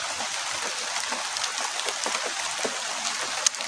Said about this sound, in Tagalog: Hindi malakas yung ulan.